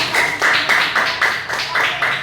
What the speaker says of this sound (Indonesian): Tepuk tangan untuk Chelsea